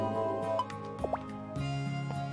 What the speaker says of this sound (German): Und dann gießen wir wieder die Pflanzen.